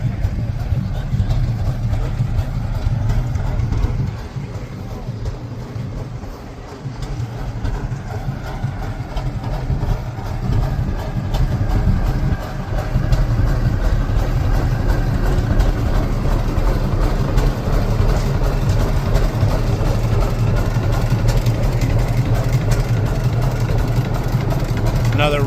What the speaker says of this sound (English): Another Rumely engine set up as a power unit.